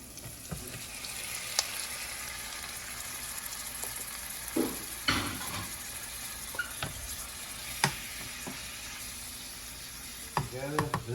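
Shrimp frying with onions in a pan, a steady close sizzle running throughout, broken by occasional scrapes and clicks of a utensil stirring.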